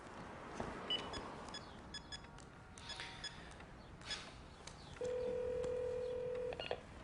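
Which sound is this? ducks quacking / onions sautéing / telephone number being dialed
telephone number being dialed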